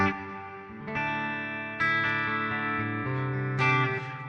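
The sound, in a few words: electric guitar with reverb effect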